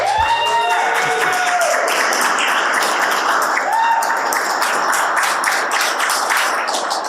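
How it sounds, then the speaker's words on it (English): A live audience at a podcast recording in Birmingham breaks into sustained applause, dense and loud throughout, with a few voices whooping over the clapping near the start. "That was a very good round of applause."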